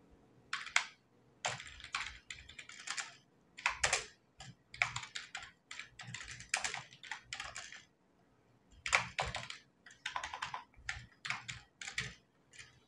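Typing on a computer keyboard while entering an account in Busy accounting software, soft rapid key clicks in bursts separated by short pauses, close and quiet.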